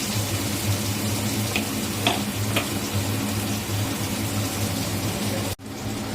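Potatoes fry in a pan for a fish head curry with potatoes, giving a steady close sizzle with faint stirring clicks and a brief dropout near the end.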